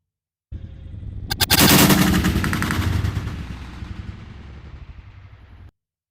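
A deep boom opens into a long, rolling roar from a black powder gun, loud and close, then fades out over several seconds.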